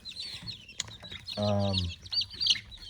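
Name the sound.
bantam chickens clucking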